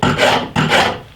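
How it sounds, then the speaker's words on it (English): A steel wood rasp files a wooden double-bit axe handle during restoration, two long coarse rasping strokes close up, loud and alone. "I'm going to clean up with the rasp"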